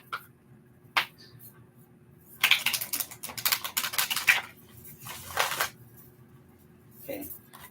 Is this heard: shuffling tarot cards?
yes